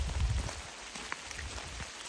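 Steady rain falls through a forest on a hike south of Mt St Helens, a dense, even patter of drops close by that continues throughout without voices.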